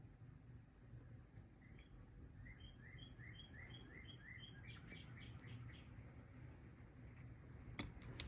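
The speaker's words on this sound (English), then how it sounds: "it's so nice to hear the birds singing" Birds sing outdoors on a windy day, a series of faint high chirps repeating in a short run over a steady wash of low wind noise, distant and soft with no voices.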